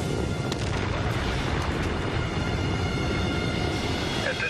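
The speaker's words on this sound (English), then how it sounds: "At this time, it appears we've had a major malfunction of the vehicle. There has been an explosion." Titan 4-A rocket exploding in flight, a sustained loud roaring rumble of the blast and burning vehicle with continuous broadband noise and a few sharper cracks, steady throughout.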